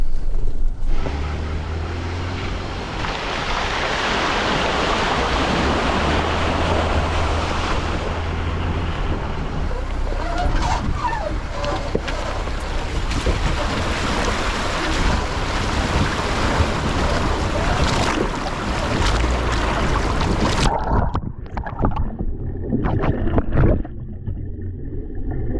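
An overlanding vehicle ploughs through a water crossing in the Ozarks, filling the air with a loud, continuous rush of churning water and wind buffeting that cuts off abruptly near the end, leaving scattered splashes and drips.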